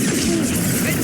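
Dense sustained gunfire rattles through a Mass Effect 2 firefight, a loud continuous barrage of rapid shots with no clear gaps between them.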